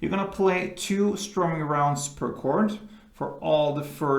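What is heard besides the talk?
No distinct noise like a dog, phone or traffic.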